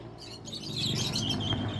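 A pet flyer bird in flight training gives a rapid cluster of high, twittering chirps that swell midway and trail off, moderately near, with a soft hum beneath and no voices.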